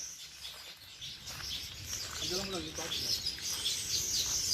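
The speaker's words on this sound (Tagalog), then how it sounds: "Ang daming ibon." Many birds chirp and tweet in a busy, continuous chorus at a resort farm with ducks and peacocks in Equatorial Guinea, with murmuring voices and crowd noise underneath.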